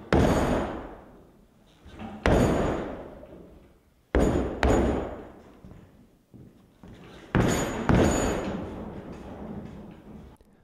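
Heavy repeated thuds of a person jumping hard on a repaired fiberglass boat deck, four loud impacts each followed by a decaying rumble, close and with no talking.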